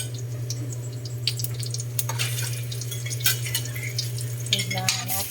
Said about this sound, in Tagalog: mapula na po ang aking saging na prito